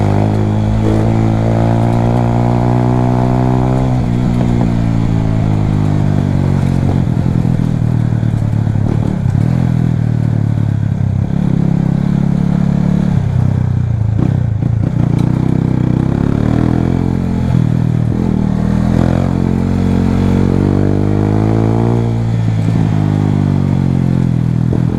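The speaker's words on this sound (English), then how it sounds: "I'm using a lot of compression instead of brakes because the road wet" A Supra 250 motorcycle rides through traffic on a wet road, its engine loud and close, revving up and dropping back repeatedly as it slows on compression instead of brakes, with continuous wind and road noise and no talking.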